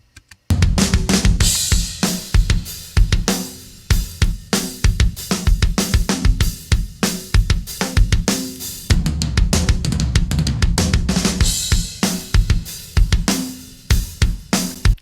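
Room microphone submix from a metal recording, unprocessed apart from a slight 400 Hz cut, carries a loud, dense, roomy full-band sound with rapid pounding drum hits throughout.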